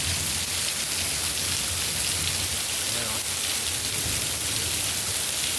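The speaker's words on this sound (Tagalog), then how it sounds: "Salamat sa ulan." Steady, dense rain pours down throughout, a continuous hiss with a brief spoken exclamation partway through.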